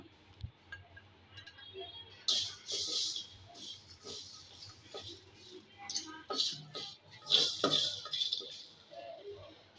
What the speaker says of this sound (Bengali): এখানে আছে ধনিয়া মেথি মরি আর শুকনো মরিচ এগুলো সব একটু বেজে নিব সামান্য